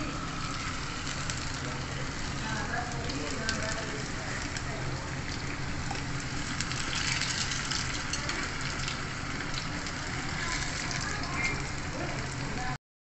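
Beef samosas deep frying in oil over medium heat give a continuous, even crackle and hiss of bubbling oil, close and steady for the whole stretch before it cuts off.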